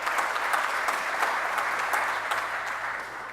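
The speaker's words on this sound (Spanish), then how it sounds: "Un aplauso." Steady, full audience applause at a plastics industry conference, dense and even from start to finish and tapering slightly toward the end, with no talking over it.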